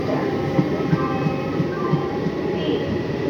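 A through train rolls past a station platform at Khardaha with a loud, continuous rumble and rhythmic wheel clatter, a faint voice underneath.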